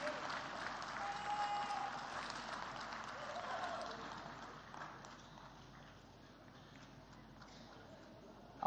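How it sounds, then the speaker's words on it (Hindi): Applause for award winners at a Pravasi Bharatiya Divas closing ceremony, a steady wash of crowd clapping that starts full and slowly thins out, fairly distant in a large hall. "जोरदार तालियां सभी अवॉर्डीज़ के लिए"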